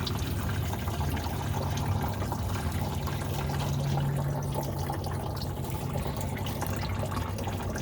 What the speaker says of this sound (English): I want that full of water.